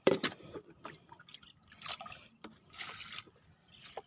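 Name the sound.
water being poured onto a hibiscus plant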